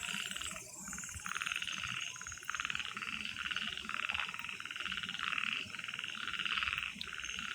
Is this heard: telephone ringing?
no